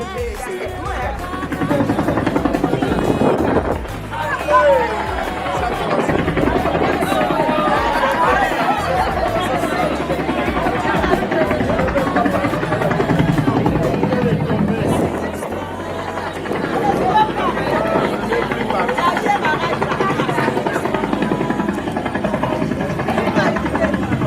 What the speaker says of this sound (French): L'hélico là vient d'atterrir.